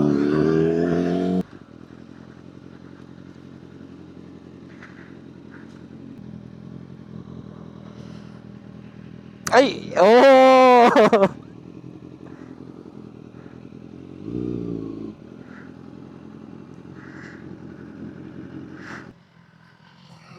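A motorcycle on a touring ride idles and rumbles nearby, with a sharp rising rev burst partway through and clattering engine noise, while another vehicle passes; a brief exclamation is heard.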